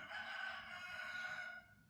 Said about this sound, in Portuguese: olha aí o galo cantando